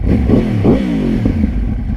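A 2013 Yamaha R1 sport bike fitted with twin under-seat GYTR carbon slip-on exhausts revs loudly up close, its engine note rising and falling in several quick blips.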